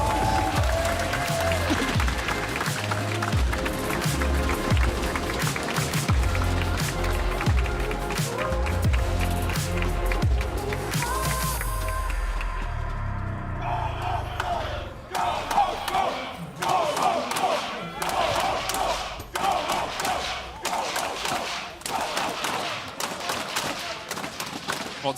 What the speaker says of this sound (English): if the crowd agrees with you, they'll cheer